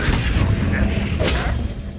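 The Confringo blasting spell cast in the Hogwarts Legacy video game: a dense, loud rumbling blast with crackling bursts layered over constant heavy low noise, plus a brief sharper flare midway.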